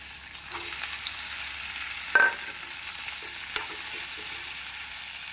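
A steady low sizzle of potatoes and onions frying in a pan, with a brief clatter of stirring partway through.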